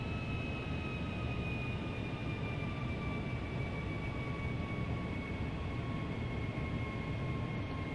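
Steady, droning engine roar from a Boeing 757 on takeoff in the FSX flight simulator, a continuous whine with sustained high tones over a broad rumble, with no voices.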